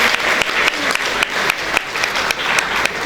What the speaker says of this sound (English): Ma'am deserves a huge round of applause, dear audience